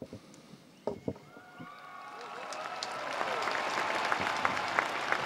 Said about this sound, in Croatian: Vidimo aplauz na papin blagoslov.